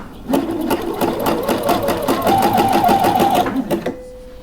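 A sewing machine runs a continuous fast stitching burst of about three and a half seconds along the seam of lace underwear, loud and close, its rapid needle rhythm steady until it stops with a brief hum.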